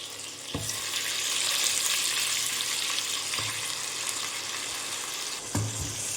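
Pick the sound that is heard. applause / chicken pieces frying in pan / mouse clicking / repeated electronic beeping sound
chicken pieces frying in pan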